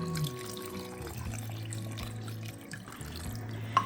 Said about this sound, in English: And then we're going to add in this beef broth.